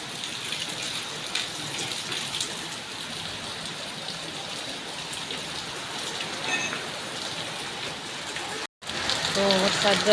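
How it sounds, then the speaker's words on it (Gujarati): Heavy rain pours outdoors as a dense, steady hiss of water falling on surfaces, loud and continuous with a brief dropout near the end, and a voice speaks over it. "વરસાદ તો ધોમ શરૂ થઈ ગયો છે બહુ વરસાદ આવ્યો"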